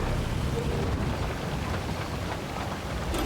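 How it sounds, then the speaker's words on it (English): Heavy rain pours steadily in the Roadcraft video game, a dense unbroken hiss with low rumbling underneath, loud and constant throughout with no voices. "Heavy rain, doesn't matter."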